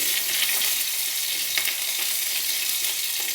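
Crushed garlic sizzles loudly in hot oil in a pan while being stirred, a dense continuous frying hiss with faint scraping strokes and no talking.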